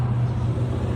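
Steady road traffic rumbles outdoors on a sunny Florida morning, a continuous close, loud drone of cars passing with no voices.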